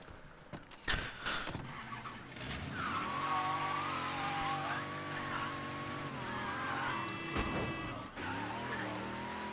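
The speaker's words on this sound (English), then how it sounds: "Hey, my car's here." A car pulls up in the Mafia video game, its engine droning steadily and loud with a sharp opening burst and tire-squeal tones riding over the motor noise, no voices present.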